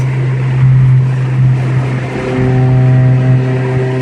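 A 2006 Toyota Corolla XRS engine drones loudly from inside the car, then its pitch climbs steadily as it accelerates through the gears, with no one speaking.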